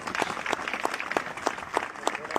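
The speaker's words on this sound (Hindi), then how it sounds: "इनके लिए तो तालियां बजनी चाहिए सभी के लिए" Rhythmic clapping for first-time trip winners at a direct-selling event in Jodhpur–Jaisalmer, with evenly spaced sharp claps in a steady beat, fairly close and moderately loud.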